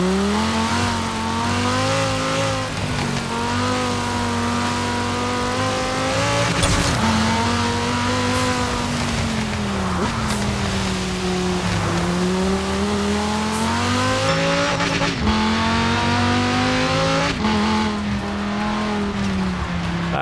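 Car engine in Forza Horizon 4 revving steadily, its tone rising and falling through gear changes with brief tire squeals, loud and close with no talk.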